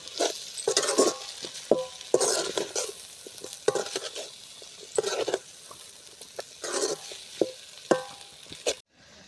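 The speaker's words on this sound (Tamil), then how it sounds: "மிளகாய் தூள்லாம் சேர்த்து வச்சு நல்லா எல்லாத்தையும் நல்லா மிக்ஸ் பண்ணி விடுவோம்" Potato fry with chili powder being stirred in a pan: close, irregular scrapes and clinks of a spatula against the metal over a soft sizzle, with no voices.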